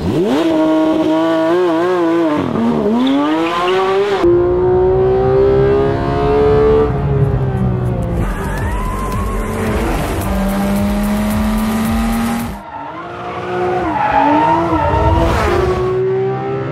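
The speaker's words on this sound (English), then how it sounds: "Listen to that engine." A Porsche 911 GT3 engine revs hard through rising and falling gear changes, a loud, continuous high-pitched howl with shifts and a brief dip near the end, and no talk over it.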